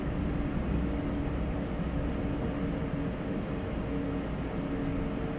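Steady jet engine drone from a Synaptic Airbus A220 in a flight simulator, a constant low roar with a faint whine, heard alone and unchanging.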